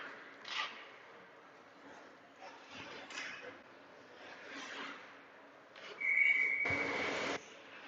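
A referee's whistle stops play at an ice hockey game, one shrill blast rising over a murmuring arena crowd late in the stretch, followed by a burst of crowd noise.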